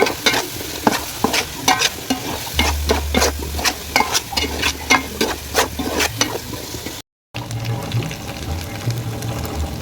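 Ground coconut, ginger and garlic masala frying in a pan for a fish curry, a rapid series of sharp spatula strokes over a steady sizzle, briefly cut off, then continuing with quieter frying and low rumble.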